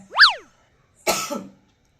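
A single harsh cough bursts out, preceded by a brief rising and falling tonal whoop, then silence.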